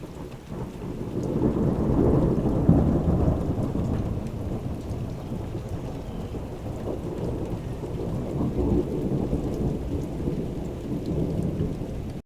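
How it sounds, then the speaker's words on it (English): Thunderstorm with steady rain, captured through a PC microphone, with deep rolling thunder rumbles swelling around the second mark and again near the end under a continuous close wash of rainfall. "this one here is going to be the thunder one, and then this can just be a rain one"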